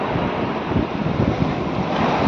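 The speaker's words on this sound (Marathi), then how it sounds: "इकडे भरपूर पाणी आहे. लाटा पण भरपूर आहे." Sea waves at Revdanda beach near the Salav bridge during high tide wash in a constant loud roar, mixed with heavy wind buffeting the microphone.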